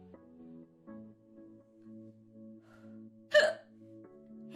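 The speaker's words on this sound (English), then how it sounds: "I'm sorry I have the hiccups." A woman hiccups once, a sharp, sudden, close hiccup standing out against a quiet background with low steady tones.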